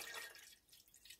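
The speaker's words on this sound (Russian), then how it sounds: "Так что я сейчас воды долью." Water poured into a chemical solution during palladium and silver recovery from contacts, a brief faint splash and trickle, close and alone.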